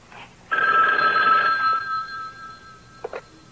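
A telephone bell rings in a single loud, sustained burst of trilling, then fades, with a couple of short clicks near the end.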